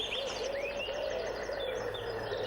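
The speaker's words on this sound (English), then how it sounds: "All you can hear are the birds singing." Birds sing in quiet countryside, a run of bright repeated chirps and whistled phrases at moderate distance over a soft steady background hum.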